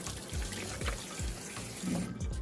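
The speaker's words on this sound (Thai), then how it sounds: "ล้างน้ำเปล่าเอาเกลือออกนะคะ" Raw pork belly is rinsed under a running kitchen tap, a steady splashing stream of water broken by soft irregular sloshes as the meat is moved about.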